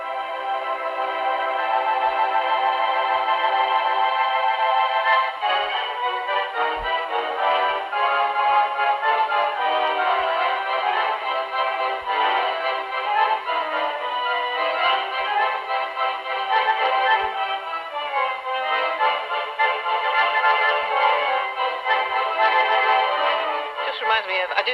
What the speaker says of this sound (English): What does a really old Wurlitzer sound like?